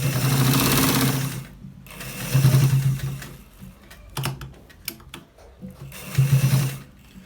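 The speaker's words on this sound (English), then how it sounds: "We are stitching this part so that we get to the finish" A sewing machine stitches a collared shirt in close, loud bursts of rapid mechanical whirring that start and stop several times, with quieter clicks and handling noises in the pauses.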